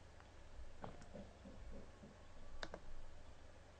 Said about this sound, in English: I'm going to click edit here